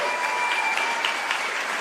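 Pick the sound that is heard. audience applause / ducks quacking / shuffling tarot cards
audience applause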